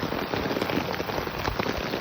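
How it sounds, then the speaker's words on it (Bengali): Rain begins to fall over open wetland, a dense, even patter of drops hitting surfaces, steady and moderately loud for a couple of seconds with no voices. "এখনই বৃষ্টি চালু হয়ে গেছে।"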